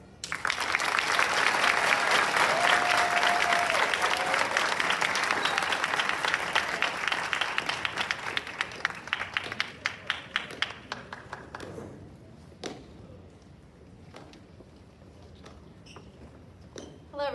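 Loud, dense applause from an audience at a 2022 school culmination ceremony swells early, then thins into scattered individual claps before fading out.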